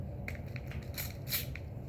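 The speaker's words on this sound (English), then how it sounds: "And I simply open up my little spray." A white spray paint can releases short, sharp hissing bursts, with the loudest spray coming near the end of the moment.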